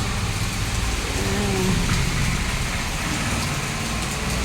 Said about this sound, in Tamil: இது பாருங்க, அடுத்தது மழை.